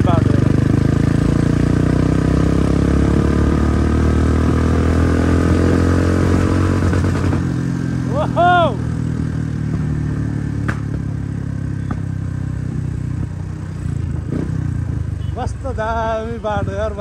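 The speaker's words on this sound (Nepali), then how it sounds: "कस्तो मजा आएको नि बाइक चलाउन" An RM 250 modified dirt bike engine runs at a low, steady hum while riding, mostly masked under continuous talking, with a few clattering knocks near the end.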